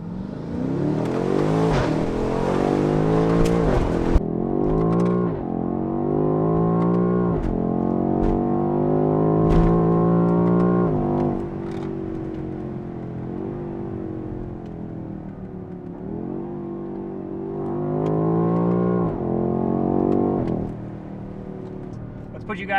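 Valves open on a BMW X6M's sport exhaust as the engine is revved hard several times, loud rising and falling blasts close to the car, with a voice talking between some of the revs.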